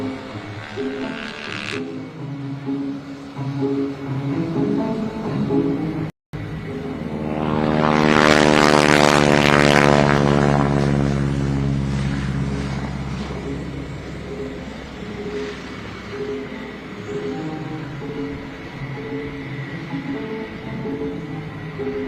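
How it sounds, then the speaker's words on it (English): A radial-engine propeller aircraft rolls for takeoff at the Tinker Air Force Base air show, its deep rumbling drone swelling loud as it passes close, then fading into a steady distant roar. "let's listen to the sound of radial rumble"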